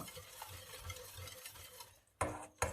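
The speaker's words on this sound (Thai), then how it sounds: "คนไม่งั้นเดี๋ยวมันจะติดก้นหม้อ" Pad Thai sauce being stirred in a pot, a steady scraping and swishing that keeps going without a break, then two louder knocks or scrapes near the end, with no voices.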